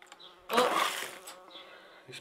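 A bee buzzes loudly close by at an old country house in France, swelling for about a second before fading, with quieter buzzing flickering in and out.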